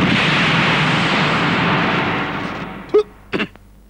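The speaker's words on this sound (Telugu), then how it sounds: "బాంబు" Comedic bomb explosion effect in a Telugu film scene, a loud rumbling blast that fades over about three seconds, followed by two short bursts of sound.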